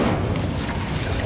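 An Incendio fire spell is cast in Hogwarts Legacy: a short, steady whoosh of booming low rumble and roaring flame, fairly close and continuous for just over a second with no talking.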